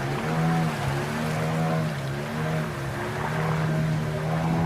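An outboard-engined river boat in Taman Negara is pushed over riverbed rocks, its motor droning steadily and closely with a low, even hum over rushing water.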